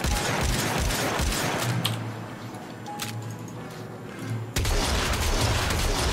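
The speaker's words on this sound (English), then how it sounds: "That's how fast you can fire the Corinth Prime by itself without the use of Penance." Rapid, dense gunfire from the Corinth Prime in the video game Warframe, shots rattling out loud and close in a fast volley with a brief quieter stretch in the middle before the firing resumes.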